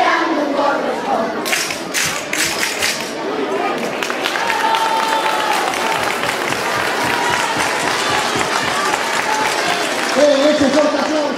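A crowd applauds loudly and steadily at the Festa dos Maios in Vilagarcía de Arousa, with cheers and voices mixed in throughout and sharp claps standing out near the start.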